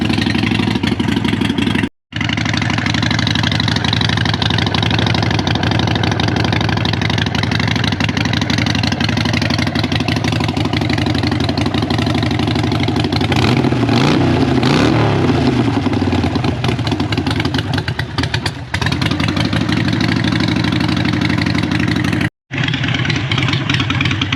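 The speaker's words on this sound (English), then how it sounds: "we went down to Florida and picked up this 2012 Harley Davidson Sportster 883" 2012 Harley-Davidson Sportster 883 motorcycle engine running loud and close, a steady rumbling idle with a stretch of revving midway and brief cut-outs near the start and end.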